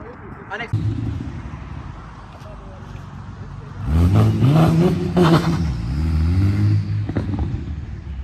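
A Dodge Hellcat accelerating hard in a Mexico roll race, a loud rising engine roar bursting in midway and pulsing through gear changes, with people talking and shouting around it.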